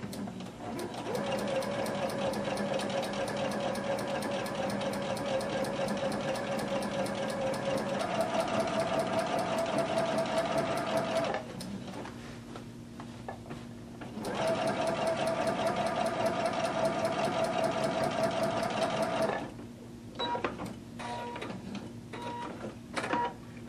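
A sewing machine stitches a skirt pocket in several long, steady runs with short pauses between them, its whirring motor close and loud, followed by a few final brief bursts and clicks.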